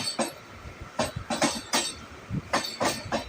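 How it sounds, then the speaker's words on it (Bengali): Express train passing on the Howrah–Burdwan line, with a rhythmic clickety-clack of wheels over rail joints in repeated paired bursts, close and fairly loud with no talking. "তো আবার একটি ট্রেন পাস হচ্ছে।"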